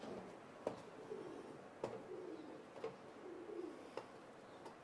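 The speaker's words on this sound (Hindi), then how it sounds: "कबूतर गुटरगू कर रहे हैं जैसा कि आपको आवाजें आ रही हैं।" Soft pigeon coos murmur in the background, quiet and repeated, with a few sharp faint ticks at intervals.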